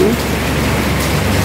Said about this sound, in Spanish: Y así está lloviendo.